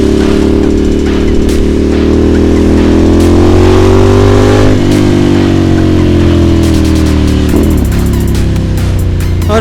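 A Ducati Monster motorcycle engine revs loudly up close, its deep throbbing idle climbing into a strong rev and dropping back, followed by sharp repeated blips of the throttle.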